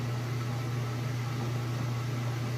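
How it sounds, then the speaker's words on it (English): A Kenmore washing machine spins at high speed with a steady, loud mechanical hum and broad whirring noise. The sound runs evenly throughout, with no pauses and no voices. "it's spinning nice and super fast, nice and level and even"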